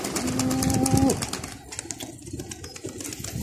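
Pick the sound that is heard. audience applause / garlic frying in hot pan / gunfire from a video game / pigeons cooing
pigeons cooing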